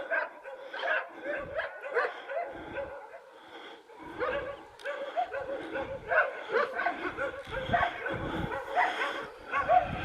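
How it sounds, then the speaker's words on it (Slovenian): Several dogs barking in welcome at a rural homestead, a busy run of overlapping barks, yips and whimpers at close to medium range, with faint voices mixed in. "Lajež dobrodošlice."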